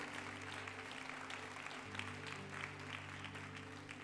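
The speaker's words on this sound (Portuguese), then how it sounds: "dá uma salva de palmas ao Senhor" A church congregation at a Lagoinha Betim service claps together in praise, a steady wash of applause over a held musical drone, fairly distant and soft.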